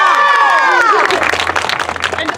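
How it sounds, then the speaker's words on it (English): Audience at a Robin Hood's Gang stage show bursts into loud cheering, with high whoops and shouts sliding downward, then settles into a steady wash of clapping and crowd noise that continues to the end. "Can we hear one more round of applause for all of these lovelies?"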